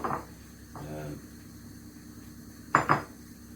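Dishes clink and scrape as they are moved, with a soft sliding sound early and two sharp ceramic knocks near the end.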